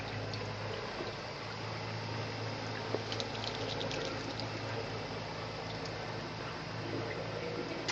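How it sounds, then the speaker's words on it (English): Simplicity twin tub washer, Canadian-made, spinning out soapy water, a steady even whir and rushing water drone held at constant level throughout, fairly quiet and continuous with no talk. "that beautifully quiet machine just spun out all that water"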